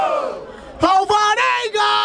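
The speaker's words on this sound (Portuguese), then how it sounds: "Barulho para cima do Rafael!" At a rap battle, a host's voice gives way to a loud crowd erupting in rhythmic shouts and cheers, in several quick bursts.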